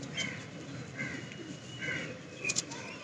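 A pet pigeon coos in a few soft, throaty bursts spaced about a second apart, quiet and close against a faint background hiss.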